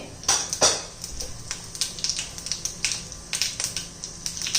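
Mustard seeds and cumin dropped into hot oil for khichdi: rapid, close crackling and popping spatters over a soft sizzle, with a few sharper clinks early on, no voices.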